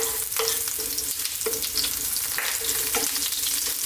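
Garlic and ginger sizzle in hot sesame oil in a pan for Chinese chicken broccoli fried rice: a steady close frying hiss with occasional stirring scrapes and no voices.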